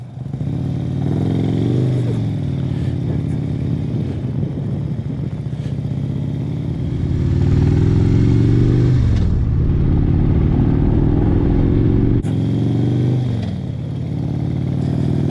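A Harley-Davidson CVO motorcycle rides through hill country, its loud, steady mid-pitched engine rumbling up close with rising and falling revs as the rider shifts gears, plus a brief dip and recovery near the end.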